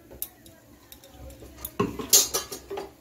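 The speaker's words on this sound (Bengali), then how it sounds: "এখন আমি ঘিটাকে সব কিছুর সঙ্গে মিশিয়ে নিচ্ছি" Ghee being stirred through chire polao, a flattened rice pilaf, in a pan: soft scraping and clinks of a utensil against the pan, with a few sharper metallic knocks toward the end, close and moderately loud.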